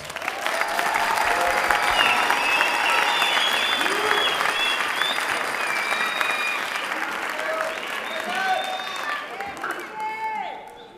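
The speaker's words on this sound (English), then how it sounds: "Please give these students another big round of applause." Sustained applause from an audience for students at a middle school winter concert, steady and full for most of its length, with scattered voices and crowd chatter rising toward the end.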